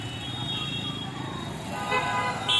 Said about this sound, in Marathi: तर बघा फुल ट्रॅफिक झालेली आहे.